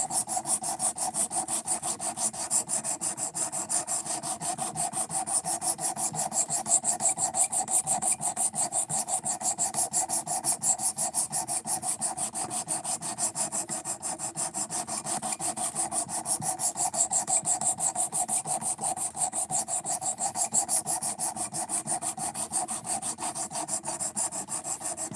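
A knife blade is drawn repeatedly across a sharpening stone in a long, steady run of rapid rasping strokes, close and even, with no talk.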